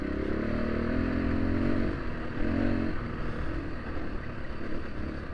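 A 2024 Husqvarna FE501S dual sport motorcycle rides over rocky terrain, its punchy single-cylinder engine droning steadily up close while the chassis clatters and scrapes over stones throughout.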